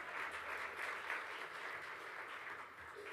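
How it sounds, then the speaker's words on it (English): Audience applause at a horticulture investment panel discussion, a steady wash of clapping from a room of people lasting the full few seconds at moderate distance. "Let's give Craig a round of applause."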